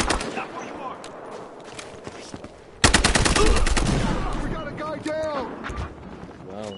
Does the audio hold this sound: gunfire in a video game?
yes